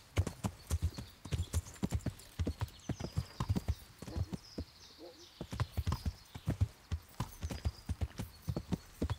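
Pony hooves clip-clop in a steady, rapid walking rhythm while the animal works, close and fairly loud, with a brief whinny-like sound and some background noise.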